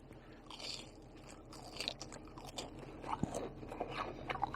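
Crunchy breaded tonkatsu pork cutlet with tonkatsu sauce being chewed up close, giving repeated soft crunches and scraping bites at an irregular rhythm with no talking.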